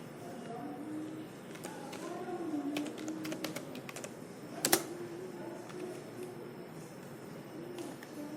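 Keys being tapped on a computer keyboard while writing in Microsoft Word, a faint scatter of quick clicks beneath someone talking, with one sharper tap standing out.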